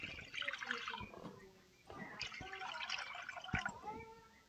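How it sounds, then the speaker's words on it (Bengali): Water pours into a wok for boiling jackfruit seeds, a close, uneven splashing and gurgling in two bursts separated by a short pause, with a few sharp knocks against the pan. "এবার কড়াতে বীজ সেদ্ধ করার জন্য জল দিয়ে দেব।"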